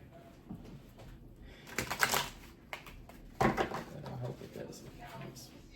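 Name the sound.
shuffling a deck of cards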